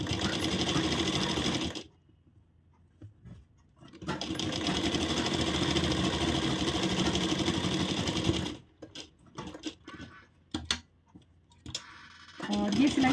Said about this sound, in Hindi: सीधा करने के बाद ऊपर की तरफ से एक सिलाई लगाएंगे।